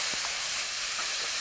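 Zucchini stir-frying in perilla oil in a hot pan, giving a steady close hiss and sizzle with faint crackles and no talking.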